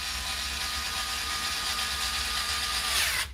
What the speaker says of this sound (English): And apologies to Kevin McCartney, what I'm doing to his drills tonight.